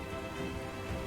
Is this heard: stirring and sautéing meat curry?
no